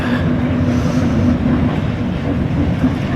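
Class 08 diesel shunter shunting a Class 87 electric locomotive, a loud steady low diesel rumble with a faint droning hum, continuous and near.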